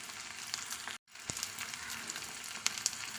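Onions and green chillies frying in a pan, a steady close sizzle with soft crackles and a few brighter pops, briefly cut near the start and then resuming, with no talking.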